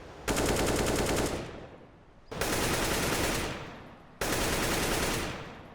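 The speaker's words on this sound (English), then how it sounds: "I actually kinda do like the new AK sound," Bursts of automatic AK rifle fire from the Counter-Strike video game, three long sustained volleys with short gaps between, loud and dense with no talk.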